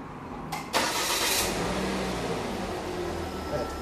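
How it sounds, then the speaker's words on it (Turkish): A 2012 Volvo C70 coupe cabriolet's engine cranks and catches with a short whirring burst, then settles into a steady, fairly quiet idle. "Çalıştırın arabayı."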